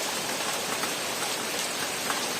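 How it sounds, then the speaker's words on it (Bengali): Heavy rain falls around a flooded house, a dense, even hiss of drops on surfaces that continues without pause and carries no voices. "প্রচণ্ড পরিমাণে বৃষ্টি হচ্ছে ওদিকে দেখো"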